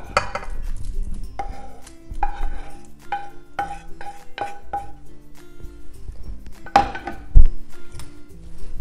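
Potatoes and meat dropped into a bowl holding six beaten eggs for a tortilla moruna, with soft thuds, clinks of utensils against the bowl and light scraping, close up.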